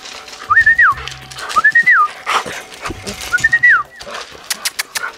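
A dog whimpers in repeated high rising-and-falling whines, with short low barks and yelps between them, close and fairly loud in a home setting.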